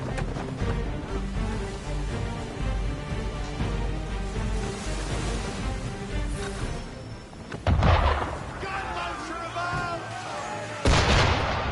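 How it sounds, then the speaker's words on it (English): Booming cannon fire strikes at a ship in Assassin's Creed 3, with heavy blasts landing amid a busy game soundscape and two sharp, loud reports late on, while voices talk in between. "Why is he shooting at us?"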